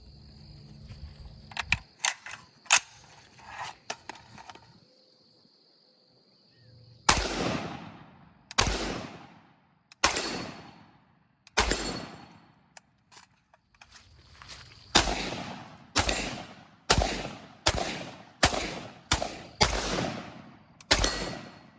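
A Rock River Arms LAR-15 rifle fires at an outdoor range: about a dozen sharp, loud shots, spaced one to two seconds apart, each with a ringing decay, after a few quieter clicks and handling noises.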